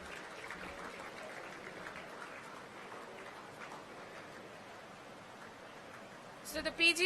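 An audience at a graduation convocation ceremony claps in a faint, distant and even patter that holds steady throughout, broken near the end by a few louder, closer thumps.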